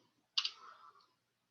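A single short burst of clicks from a computer keyboard while entering a formula into a spreadsheet, quiet and close in an otherwise silent room.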